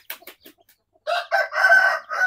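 Chickens with their chicks in a backyard coop: sparse soft peeps and clucks at first, then loud, sustained crowing-like calls close by filling the second half.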